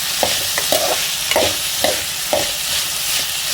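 Chopped vegetables for upma, including tomato, green chillies, carrot, potato, beans and black peas, sizzle steadily in a pan while a spoon scrapes and stirs them in short, regular strokes, loud and close.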